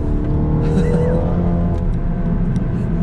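A car on a run through a bend, its engine droning steadily close by under a rough, continuous road and tire roar, with no sharp acceleration throughout.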